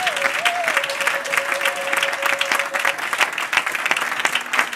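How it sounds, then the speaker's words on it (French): A church congregation claps and cheers for God during a French-language sermon, with dense steady applause throughout, a sustained tone or voice held over it. "Acclamons très fort pour notre Dieu."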